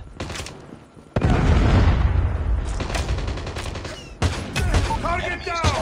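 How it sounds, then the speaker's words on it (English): Call of Duty Mobile gunfire and a predator missile explosion: a loud boom hits early and rolls into sustained rapid fire and further blasts, with game voice callouts mixed in. "Hostile predator missile inbound."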